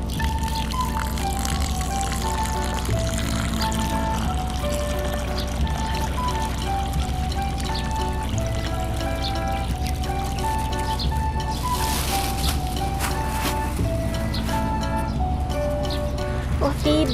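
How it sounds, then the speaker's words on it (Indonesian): Water pours steadily into a toy swimming pool dug in dirt, a continuous splashing trickle heard under constant background music and occasional talk. "Sekarang aku mau isi air deh."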